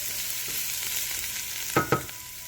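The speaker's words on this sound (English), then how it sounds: "Frying up nice, eh? Don't want too much oil in it." Grated jackfruit seed hash brown fries in a little oil, giving a soft continuous sizzle with a couple of sharp scrapes or stirs near the end, close by and without speech.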